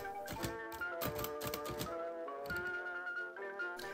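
A 1919 Hammond Multiplex typewriter being typed on, its sharp key strikes landing in quick irregular bursts with brief pauses between, close and clear with no talking.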